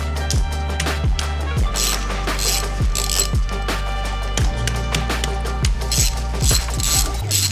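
Socket ratchet working a part loose on a Honda CRF motorcycle, fast repeated clicking bursts in quick strokes, close and loud, with brief pauses between pulls.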